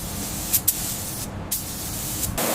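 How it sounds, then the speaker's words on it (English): Spray paint in British racing green going onto a Mini Cooper body during restoration, heard as a few short, sharp hissing bursts from an aerosol or spray gun, with quiet gaps between them. "Next, a fresh coat of British racing green."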